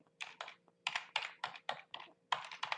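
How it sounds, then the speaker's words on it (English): Someone types on a computer keyboard in quick irregular bursts of crisp clicks, close and clear, with brief pauses between groups of keystrokes. "I'm just going to type in the Conversion Pros"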